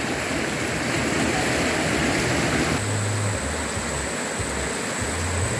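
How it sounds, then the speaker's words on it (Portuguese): A river flows past in a steady, loud, close rush of water, with a low engine-like drone joining partway through. "Esse barulho d'água, como eu falei anteriormente, transmite uma paz muito grande"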